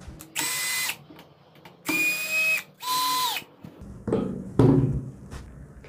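A cordless driver whirs in three short bursts while backing out the screws on the handle of a wall grooving chaser machine, followed by clicks and handling clatter as parts are removed up close.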